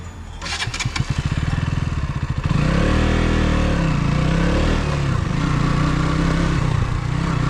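A KTM Duke 200 motorcycle is started and pulls away on loose sand and mud in a jungle section. Rapid starter chatter leads into a loud revving engine up close that rises and falls as the bike rides off.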